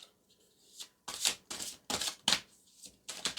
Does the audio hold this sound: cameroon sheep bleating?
no